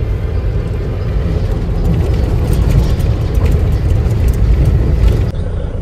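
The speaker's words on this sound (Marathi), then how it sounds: "हा चढा आहे ना, त्यामुळे मोठ्या गाड्यांना जरा प्रेशर लागतो" Dense road traffic on Ghodbunder Road as heavy trucks labor up an incline, a loud continuous low rumble of engines and tyres that stays steady without any talk.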